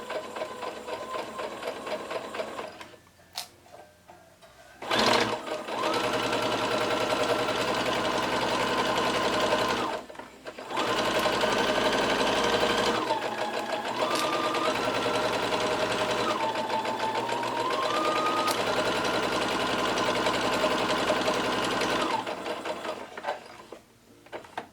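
A domestic sewing machine stitches two facing pieces together around the outer edge with a 1 cm seam allowance, running in steady bursts with short pauses between them, close and loud.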